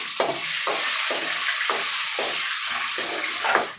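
Loud continuous sizzle of tomatoes and curry leaves frying in hot oil over medium-high flame, with rhythmic scraping as they are stirred in the pan, close up.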